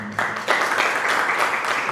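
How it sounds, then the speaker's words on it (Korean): A church congregation at a Korean Thursday prayer meeting gives applause of thanks after a prayer: dense, steady clapping from many people that fills the space, close and fairly loud. "우리 감사의 박수를 드리겠습니다."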